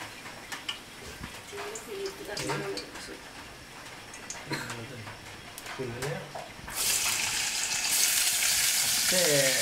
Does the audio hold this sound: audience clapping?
no